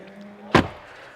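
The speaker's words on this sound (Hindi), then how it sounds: "तो मैं इसका दरवाज़ा बंद कर देता हूँ" A luxury car's door swings shut with a single solid, close thunk, preceded by a quiet hum and followed by a faint click.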